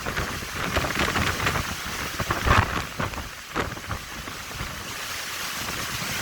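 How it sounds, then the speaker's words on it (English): Hurricane Ida's wind and heavy rain batter Houma, Louisiana, in a steady roaring wash of downpour and gusts, with a few louder rattling bursts, close and continuous. "we are in the full front of the storm now"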